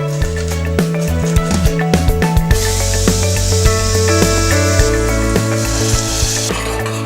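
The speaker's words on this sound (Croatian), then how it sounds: "Kapula je omekšala, sad dodajemo kapare i sjeckani vlasac." Chopped onion sizzles in a pan for a chive and white wine sauce, a close, steady frying hiss over background music, with no talking.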